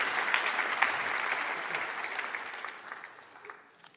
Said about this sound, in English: can we give our fishermen a round of applause?